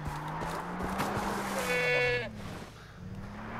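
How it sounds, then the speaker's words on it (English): A goat bleats once in a wavering cry amid the ambient game sound of Far Cry 3, heard fairly close over a low background drone. "Is that a goat? Is there a goat in here?"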